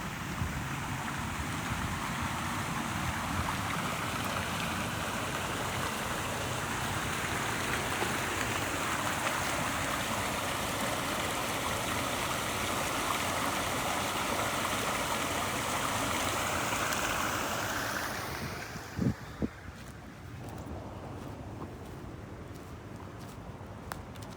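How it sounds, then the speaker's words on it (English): Water rushes over a spillway toward Rhododendron Cove at Wahkeena Nature Preserve, a loud steady outdoor roar that drops away abruptly near the end, leaving faint clicks and quieter ambience. "Here's where the water flows towards Rhododendron Cove."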